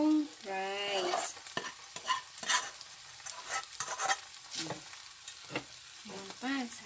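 Beef fried rice, Chowking-style chowfan, is stirred and fried in a pan, with a steady sizzle under repeated scraping strokes of the spatula and brief vocal fragments at the start and end.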